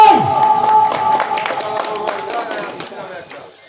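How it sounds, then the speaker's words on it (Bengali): Crowd at a village fair clapping and cheering as the first prize, an Apache 4V motorcycle, is handed to the winner; a dense burst of applause with a voice over a loudspeaker, fading toward the end. "সবাই একটি জোরসোর করতালি"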